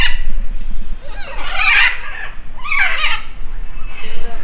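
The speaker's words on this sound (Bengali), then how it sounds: "পাখিরা এখানে ঝগড়া করছে।" Birds squabbling in a zoo aviary near the macaws, two loud harsh raucous calls in quick succession over steady background noise, close and unaccompanied by talk.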